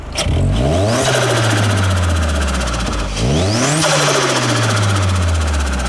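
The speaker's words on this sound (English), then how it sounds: "Let me show you what it sounds like under the bonnet." A Vauxhall Astra VXR engine revs loudly under the open bonnet in two strong, sweeping bursts that climb, peak and fall back into a steady throb, heard close and alone.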